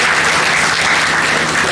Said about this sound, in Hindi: इस बात पे जोरदार तालियां बजाएं